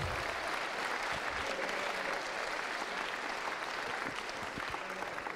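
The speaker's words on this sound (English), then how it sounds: "Round of applause." Sustained audience applause at a SteamCon 2018 keynote, a dense steady clatter of many hands filling the hall for several seconds with no speech over it.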